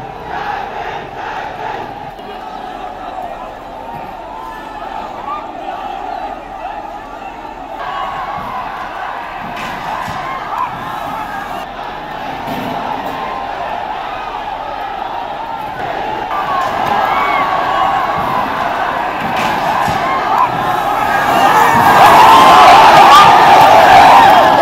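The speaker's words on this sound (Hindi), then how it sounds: "कलेक्टर को ज्ञापन देने जा रही हजारों लोगों की भीड़ भड़क गई" A crowd of thousands of protesters causes an uproar at a collectorate and breaks through a police security cordon, a dense continuous roar of shouting voices that swells louder toward the end.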